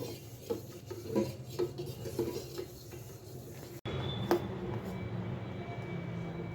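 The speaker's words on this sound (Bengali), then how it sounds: "এবারে এই গরম দুধটাকে এইভাবে নাড়িয়ে নেব" Hot milk curdling with a capful of vinegar is stirred in a pot, with soft scraping and swishing strokes at a steady pace, close and fairly quiet, a brief sharper clink partway through.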